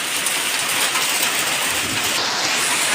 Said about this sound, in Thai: ฝนเทลงมาแล้วนะคะ